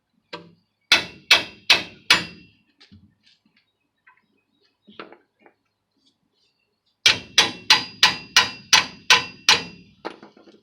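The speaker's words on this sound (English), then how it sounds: "You can hit it with a hammer and it'll pop up" Hammer blows on a car's ball joint to pop it loose: a quick run of sharp metallic clangs, a pause with a few light taps, then a longer rapid series of loud ringing strikes.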